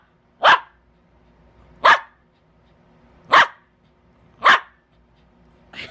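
A dog barks excitedly, four loud sharp single barks spaced about a second and a half apart, close by with quiet in between.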